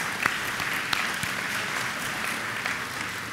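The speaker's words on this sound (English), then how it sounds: "Give them a round of applause." An all-school assembly audience claps for the parents, a fairly faint, even spread of applause lasting the whole stretch with a few sharper individual claps standing out.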